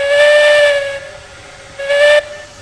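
A steam locomotive in Railroad Online gives two loud whistle blasts with hissing steam, a long first toot then a shorter second one after a pause, close and alone.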